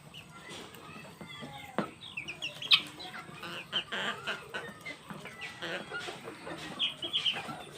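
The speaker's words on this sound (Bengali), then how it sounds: "এখানে প্রায় আপনার 40টা মতো মুরগি আছে" Fayoumi chickens cluck and chatter around a backyard feeding spot, a flock of about forty heard as repeated soft clucks and short squawks at moderate distance, without talking.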